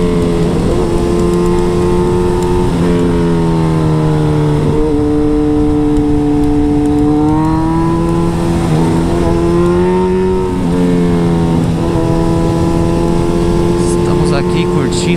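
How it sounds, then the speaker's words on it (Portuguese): A Suzuki B-King motorcycle ridden through mountain curves near Serra Negra, its engine loud and close with repeated rising and falling revs through gear changes, continuous throughout, with a rider talking now and then. "Curtindo a B-King nas curvas."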